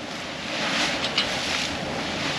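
A sailboat moves close-hauled in 13 knots of wind, heard as a steady broadband rush of wind and water along the hull, continuous and fairly loud with no talking.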